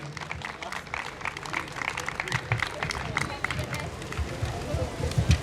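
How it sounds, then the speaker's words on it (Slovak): An audience applauding at the Svit town days festival, sustained clapping from a crowd with babble mixed in, steady and moderately close. "Čo by ste povedali na to, keby som vás poprosila ešte o jeden potlesk"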